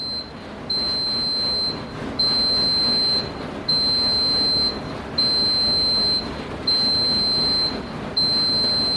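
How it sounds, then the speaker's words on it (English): A Panmeka breadmaker's finished alarm beeps repeatedly, six long even tones with short gaps between, loud and close over a faint background hum. "Beeps quite a lot of times, doesn't it? Just want to make sure that you actually hear the alarm."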